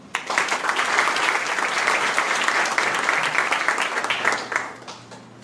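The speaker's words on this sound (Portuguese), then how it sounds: "Palmas a eles." An audience at a lawyers' ceremony applauds in a dense, steady burst of clapping close by that lasts about five seconds, then thins out and fades.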